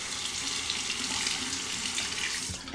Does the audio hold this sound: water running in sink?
yes